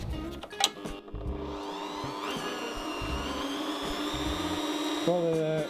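A Bosch PBD 40 bench drill press runs at low speed, a steady, close motor whine with a rising tone partway through, while light handling sounds and a brief voice occur at the start.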